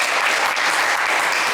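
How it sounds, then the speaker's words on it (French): A television game-show studio audience claps in warm, sustained applause, loud and even from start to finish, with no voices over it. "Allez Rodrigue, on vous applaudit également très fort."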